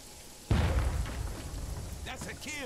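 A grenade goes off in Jagged Alliance 3 with one loud, sudden boom whose deep rumble fades slowly over a couple of seconds, followed by faint sweeping tones in the background.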